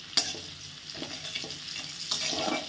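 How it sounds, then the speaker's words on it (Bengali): Capsicum being stir-fried in a hot pan for homemade mixed chowmein, giving a steady sizzle with scraping stirs and a few sharp clinks of the spatula against the pan, close and alone with no talk. "এবার এর মধ্যে একই সাথে ক্যাপসিকামটা অ্যাড করে দেব।"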